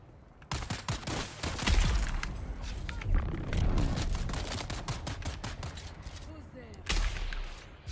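Video game gunfire rattles out in a rapid, sustained stream of sharp cracks, fairly close, with a few heavier blasts, as a voice talks over the shooting.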